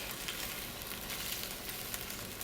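Chinese-style broccoli beef sizzles steadily in a pan while being flipped and turned, a close, even crackling hiss without pauses.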